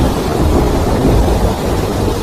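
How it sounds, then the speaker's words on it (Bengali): Loud, continuous storm noise: heavy rain and wind with deep rumbling thunder filling the whole stretch, no voices. "বাইরে বৃষ্টির শব্দ ঝড়ের শব্দ বজ্রপাতের ভয়ঙ্কর শব্দ"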